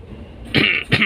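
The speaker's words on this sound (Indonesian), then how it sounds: "Batuk lur." A driver in a car coughs twice in quick succession, close by. Low road and engine rumble runs underneath.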